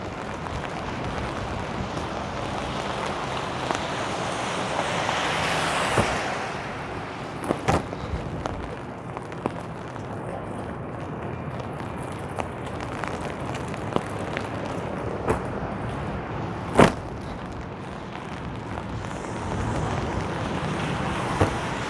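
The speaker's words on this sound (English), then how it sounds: "I seem to be walking directly into the wind now" Strong wind buffeting a microphone during a rainy, lightly snowy walk through downtown Toronto streets in December, a constant roaring rush with occasional gusts and faint traffic beneath, no speech.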